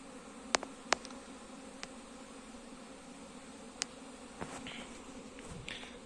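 Honeybees on a spring cleansing flight buzz around wooden hives, a soft continuous hum of many insects with a few louder passes close by and faint ticks and rustles.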